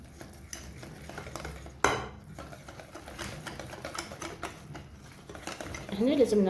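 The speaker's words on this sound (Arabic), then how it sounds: "هنا لازم نخلطو مليح مليح باش تدخل لنا هذيك الفرينه" Flour being mixed into an egg-free, milk-free caramel coffee cake batter, with clattering scrapes and knocks of a utensil against the bowl, a sharp clink near the start, steady stirring throughout.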